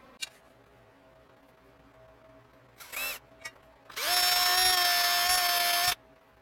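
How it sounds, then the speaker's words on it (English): A power drill whirs steadily for about two seconds, loud and close, drilling a hole in metal on a planer milling machine, after a few short bursts and clicks. "So I drilled and tapped my first hole"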